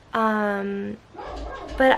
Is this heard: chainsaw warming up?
no